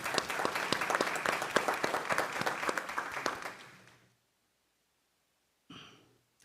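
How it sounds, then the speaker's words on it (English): Audience at a school board meeting claps in a dense burst of applause lasting about four seconds, then fades to silence before a brief faint rustle. "Let's give a round of applause to our high schools."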